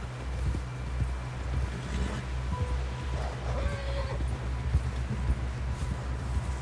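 Horse hooves clip-clopping in Red Dead Redemption 2, a steady rhythmic trot heard close throughout over low ambient rumble, alone without talk.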